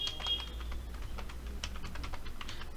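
An Aadhaar number being typed on a computer keyboard: a quick, uneven run of light key clicks, close and steady, with no voices.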